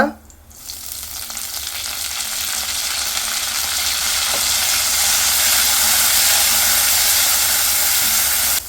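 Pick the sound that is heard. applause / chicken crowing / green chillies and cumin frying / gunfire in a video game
green chillies and cumin frying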